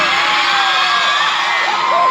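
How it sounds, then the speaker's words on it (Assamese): A large crowd of girls shouts and cheers together at a Bihu fair, a loud, sustained roar of high voices that holds steady throughout. "ছোৱালীৰ মাতবিলাক এবাৰ শুনিম, কিমান ডাঙৰ চিঞৰ আছে"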